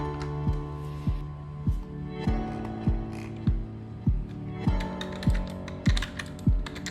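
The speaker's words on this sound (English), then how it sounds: "I feed it the password Tuesday, hoping Peter was sloppy with his permissions" A computer keyboard is typed on to enter a sudo command and a password on a Linux server, with close, crisp key clicks in irregular bursts and heavy thumps of the space or enter key at a steady beat.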